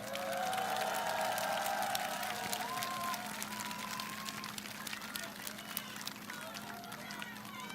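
A large outdoor crowd at a 2025 presidential campaign rally in Chungju, South Korea, claps and cheers steadily under a constant low hum, with scattered sharp hand claps standing out and voices mixed into the din.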